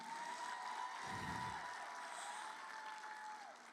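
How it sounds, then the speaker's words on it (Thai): An audience at a sales recognition event applauds sales partners with a continuous wash of clapping, under a steady electronic tone, lasting a few seconds. "อยากขอเสียงปรบมือให้กับพาร์ทเนอร์หน่อยทุกๆคนค่ะ"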